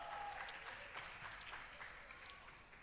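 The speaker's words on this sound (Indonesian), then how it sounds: "Tepuk tangan untuk kita semua" A crowd at a student organization's inauguration ceremony claps steadily, the applause sounding faint and distant throughout, with no voices standing out.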